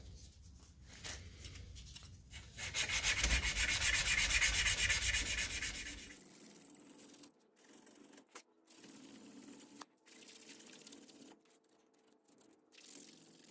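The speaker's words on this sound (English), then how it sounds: "So with the 80 grit, I'm literally just getting the ridges out of the side." A shallow-diving fishing lure body is sanded by hand with 80 grit paper to remove ridges, a close, rapid rubbing rasp that builds to a sustained burst, then breaks into short intermittent strokes with pauses.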